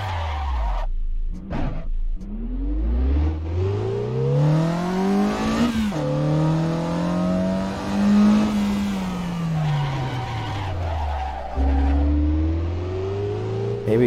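Car engine in Assetto Corsa revving up and down in long sweeping pitch swells as the throttle is worked, loud and continuous, with tire squeal and skidding mixed in.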